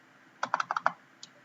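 Rapid keystrokes on a computer keyboard while a Python script is written, a quick burst of about six clicks followed by one last tap, close and clear with no talking.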